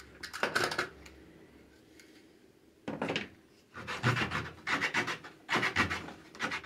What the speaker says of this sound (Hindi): इसको मैं जल्दी जल्दी से काट लेता हूँ।